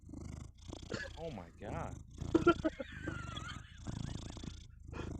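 A cat breathes heavily right against the microphone, a close, raspy snore-like purring that rises and falls in slow cycles beneath an ongoing conversation and a brief exclamation.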